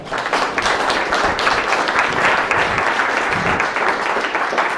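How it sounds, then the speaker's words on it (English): Audience applause at an evening community meeting, a dense steady wash of clapping filling the whole stretch at a loud, even level with no break. "Give yourselves a hand for having enough interest and enthusiasm to be here tonight."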